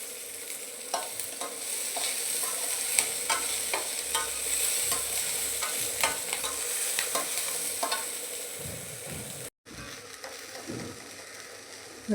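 Onions frying toward golden brown in a pan, a steady close sizzle with rhythmic spatula strokes scraping through them, moderately loud and unbroken except for a brief dropout near the end, no speech.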